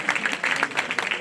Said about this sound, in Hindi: तालियों का शोर कम ना होने दें।